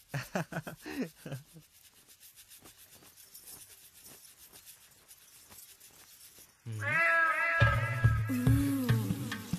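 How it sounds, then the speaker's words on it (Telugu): In a Telugu comedy film, someone brushes their teeth vigorously at midday with a steady run of rapid scrubbing strokes, close and fairly quiet, before louder tonal music abruptly takes over. "ఏంట్రా మిట్ట మధ్యన కసికసిగా పళ్ళుతోమెత్తున్నావేంటి?"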